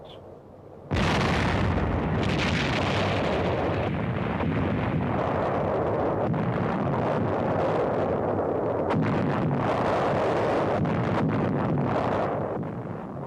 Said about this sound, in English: American guns massed in the university yard fire against enemy artillery positions